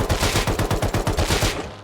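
An automatic rifle fires full-auto in the survival game Rust, a loud rapid burst of about a dozen evenly spaced shots that ends in a short decaying tail.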